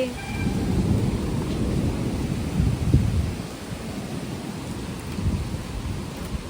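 Heavy storm rain pours down steadily with gusting wind around a balcony where tree branches are breaking, a dense close roar that swells and eases over several seconds, with no voices.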